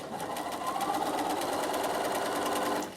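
A sewing machine stitching down Velcro with a loop turner project, running steadily at close range with a fast, even mechanical whir and rapid needle clatter before stopping.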